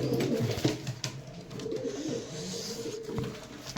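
Pigeons in a loft coo softly and repeatedly, low rounded calls overlapping at close range with occasional wing flutters and rustling, no one speaking.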